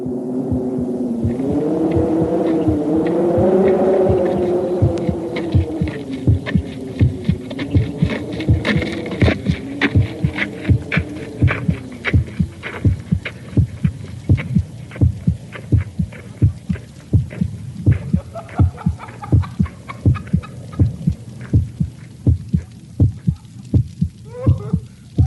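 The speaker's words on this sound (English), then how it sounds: "They walk around with their hearts beating as loud" Human heartbeat recorded for the Voyager Golden Record: steady, evenly spaced low thumps in a continuous rhythm, loud and close, with a humming tone and a murmur-like drone beneath during the first several seconds.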